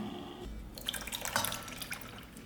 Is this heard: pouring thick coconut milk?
yes